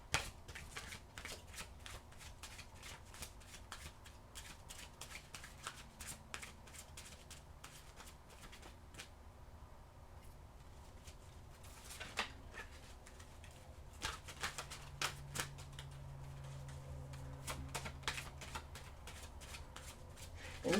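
An oracle card deck is shuffled by hand in a quiet room, a run of soft rapid riffling flutters and taps that comes in bursts over a low background hum.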